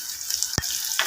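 Small shallots and curry leaves hit hot oil for a lentil kadaiyal tempering, giving a steady sizzle with one sharp burst of spattering midway and a smaller flare near the end.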